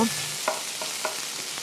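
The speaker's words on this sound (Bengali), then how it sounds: "এখন আমি এগুলো কিছুক্ষণ ধরে হালকা করে ভেজে নেব" Sliced karamcha fruit fries with spice tempering in a pan, giving a close, continuous sizzle broken by a few soft scrapes and clicks of stirring.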